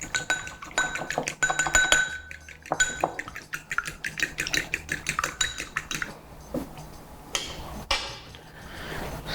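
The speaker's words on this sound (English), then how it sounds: "give them a little whisk." Eggs whisked by hand in a bowl while cooking fried chicken, heard as a rapid run of close metallic clinks and taps against the bowl, loud at first and growing more scattered and softer toward the end, with no talking.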